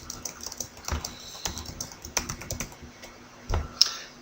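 Text is typed on a computer keyboard into WordPad, a close run of irregular key clicks with a couple of louder strokes near the end and no talking.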